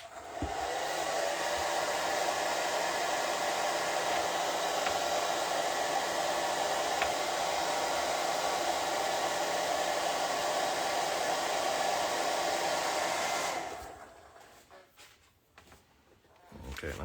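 A hair dryer blows steadily and loudly to dry red paint on a drawing, running as an unbroken broadband roar for about thirteen seconds before cutting off, leaving quiet room sound.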